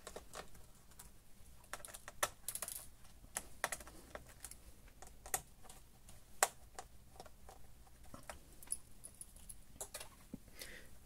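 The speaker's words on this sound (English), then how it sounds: "Now I'm going to unscrew this keyboard." Screws are being undone on the keyboard of a Dell Latitude E6420 laptop, making faint, irregular small clicks and ticks scattered throughout at close range.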